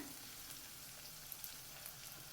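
Ginger garlic paste frying gently in a pan for homemade fish pickle, a faint, steady close sizzle with a few small crackles, no talk.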